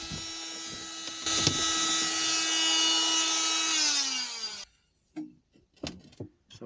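Power saw cutting back a piece of wood during a motorhome battery install: a loud, steady whine runs for a few seconds, its pitch sagging as the cut ends, then it stops and leaves a few brief knocks and rustles.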